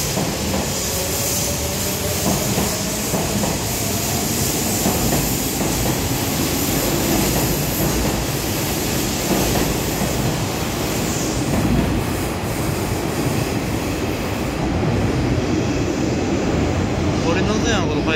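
A Hanshin out-of-service train passes close by, a loud continuous roar of wheels and rails with some wheel squeal that lasts throughout, with a voice speaking faintly underneath.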